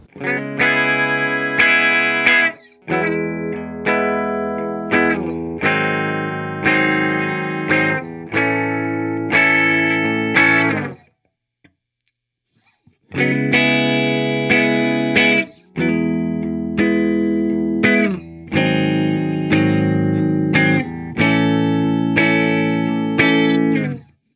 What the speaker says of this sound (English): We are gonna play this clean with the bridge, the middle, and then the neck pickup.